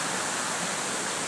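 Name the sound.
Spread Eagle waterfall in Shillong, flowing water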